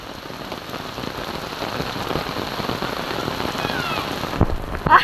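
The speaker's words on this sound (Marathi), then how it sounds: "आता मुसळधार पाऊस चालू झाला आमच्या गावात" Heavy monsoon rain pours down on Ratanjan village, a dense, steady hiss of drops drumming on surfaces, loud and continuous, with a few sharper splats and drips near the end.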